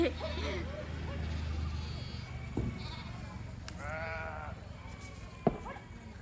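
Sheep bleat several times, fairly close, beside a planted patch of lemongrass, with people talking over and around the calls.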